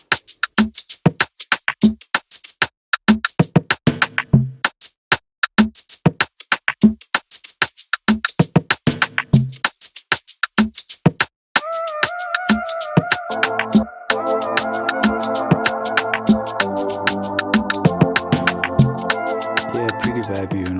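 A third shaker loop joins a modern dark Afrobeats beat in FL Studio, with quick, bright percussive shakes ticking in a bouncy groove, then sustained chords and bass swelling in partway through; no one talks.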